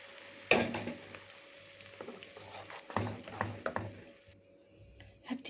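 Tomatoes drop into a pan of frying garlic for a tray of baked catfish, making a close, moderately loud sizzle with stirring scrapes and clatters that trails off near the end, with no talking.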